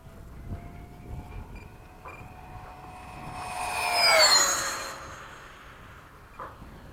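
An FMS 80mm Hawk RC model jet makes a low downwind pass at an airfield, its ducted-fan whine rising to a loud peak as it sweeps close by and then fading with a falling pitch.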